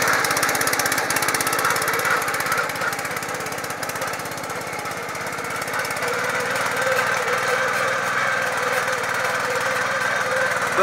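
Motor tiller pulling a plough through soil in a cherry orchard, a steady loud rattling engine drone with fast knocking pulses throughout, close up.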